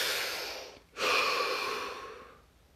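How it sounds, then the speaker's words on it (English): One slow, deep breath: a long airy exhale, a short pause, then a fuller inhale that trails off softly, close and quiet. "Take a deep breath."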